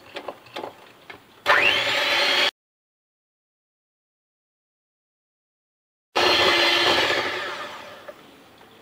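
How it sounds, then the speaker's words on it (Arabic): A machine mixes cheesecake batter with sugar in two loud, steady bursts of whirring motor noise separated by a few seconds of silence, with some light clatter beforehand. "هنا نخلط باش السكر ما يطيش عليا"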